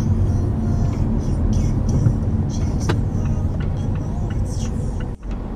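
Steady car interior road noise with a low engine rumble while driving along a long street in Killeen, Texas, constant and close throughout.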